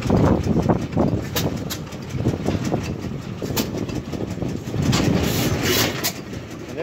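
An antique stationary engine at an engine show chugs and clatters with a quick irregular mechanical rhythm, steady and fairly close, with faint crowd noise around it.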